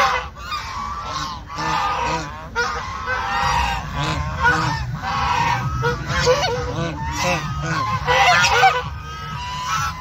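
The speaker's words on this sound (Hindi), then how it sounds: "बतखों की दुनिया है मेरे ख्याल से, बतखों की, गीस की।" A flock of geese honks loudly and repeatedly at a park, overlapping calls rising and falling in close, busy bursts with only brief gaps.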